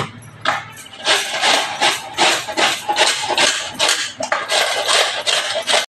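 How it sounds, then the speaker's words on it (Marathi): An ash gourd is grated by hand at home for a sweet, giving repeated rhythmic scraping strokes, loud and close, in a steady back-and-forth pattern with no talking. "आता मी सगळा कोहाळा किसून घेते."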